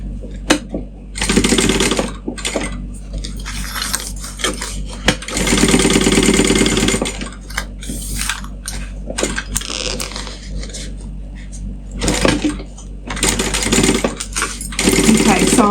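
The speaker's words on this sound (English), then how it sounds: "Okay, so I'm sewing at the bigger seam allowance" A sewing machine running along a bag seam in repeated loud bursts of rapid stitching, with stops and handling clatter between runs, close to the microphone.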